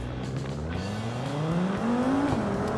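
A Cherrier FCV sports car in the BeamNG.drive game revs up steadily, its engine pitch climbing through a gear before a shift, with a faint tire squeal and no talking.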